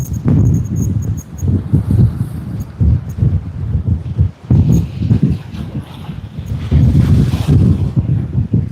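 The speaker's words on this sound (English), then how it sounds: "And the wind is picking up again." Gusty wind buffets the microphone at Sydney Airport, a loud, rumbling low roar that surges and dips in waves throughout, with a faint high hiss above it and no talk.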